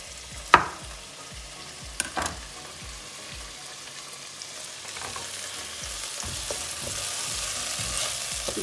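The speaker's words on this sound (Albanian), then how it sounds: "Pra pas janë skuqur bizelet mirë" Peas, onion and garlic fry in a pan for a vegetable soup, a steady sizzle that builds gradually, broken by a few sharp utensil knocks and scrapes near the start.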